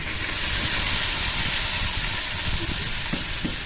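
Okra hits a hot pan of oil and sizzles loudly, a dense continuous frying hiss that stays close and steady throughout.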